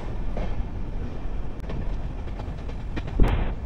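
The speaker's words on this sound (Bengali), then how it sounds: "খুবই স্লো যাচ্ছে ট্রেনটি।" Heard from aboard, the 13115 Humsafar Express creeps past the Kalyani platform with steady wheel clatter and rhythmic clicks over the track joints, ending in a brief sharp bang and squeal.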